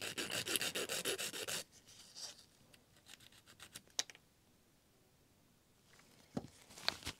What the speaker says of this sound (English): for my filing I'm also going to file the sides just a little bit